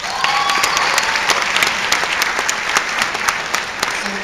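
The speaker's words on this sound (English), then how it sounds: "Let's have a round of applause for Morgan first" Festival audience at a Q&A session applauds Morgan, loud and close, a dense continuous rush of many hands clapping with distinct sharp claps popping out at a steady pace.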